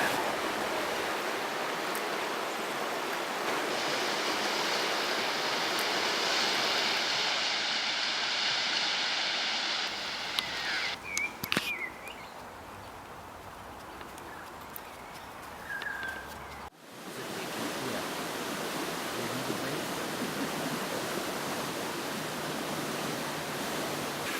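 A rippling brook on the banks of the Avon River in the Victorian Alps keeps up a steady broadband rush of flowing water, with faint bird calls and a few soft knocks partway through.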